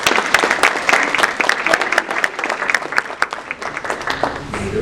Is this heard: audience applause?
yes